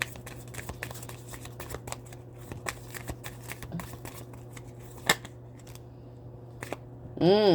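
Care Bears oracle cards being shuffled by hand, a run of quick papery flicks and riffles over a steady low hum, ending with a louder burst.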